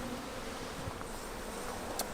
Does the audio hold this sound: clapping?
no